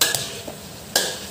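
Ghee being stirred into nasi briyani in a pot, with a couple of short scraping, clinking spoon strokes against the metal pot over a faint sizzle, close and fairly quiet.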